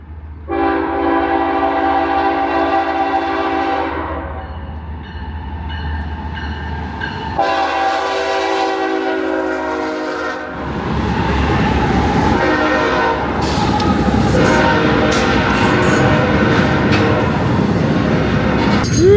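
A train passes a 1908 railway station in a Route 66 town in the Arizona desert. Loud, sustained horn blasts sound up close, then give way to heavy rumbling and clattering wheels as the cars roll by.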